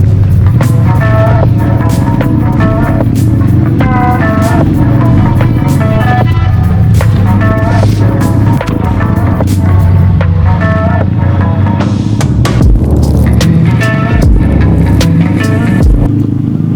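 A motorcycle cruises along a winding mountain road in winter, its engine a loud, steady drone with shifting pitch as it takes curves, heavy wind buffeting throughout, and faint talking under the noise.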